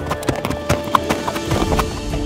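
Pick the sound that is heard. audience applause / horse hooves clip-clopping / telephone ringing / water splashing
horse hooves clip-clopping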